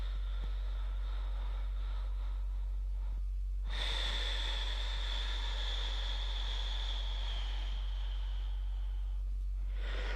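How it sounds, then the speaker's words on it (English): Slow, deep breathing close to the microphone: a faint quiet stretch, then a long steady breath running from about four to nine seconds before tailing off, with no talking. "listen to my breath in the microphone"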